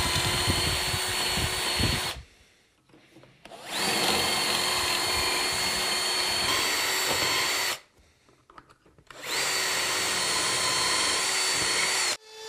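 A Bosch power drill bores dowel holes in cabinet side panels, running in three loud, sustained bursts separated by short pauses while it winds down and restarts. No one speaks.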